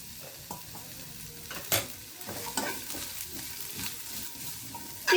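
Oil sizzling and frying in a pan while ingredients are stirred for a capsicum curry, with scraping stir strokes and sharp crackles over a steady hiss, close and moderately loud, no talking.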